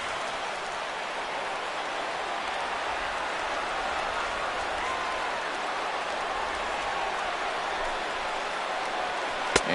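A large stadium crowd of over 39,000 in the MLB The Show 16 baseball video game, Giants at Dodgers, roars steadily on their feet late in the game, a dense continuous cheer with no talk heard.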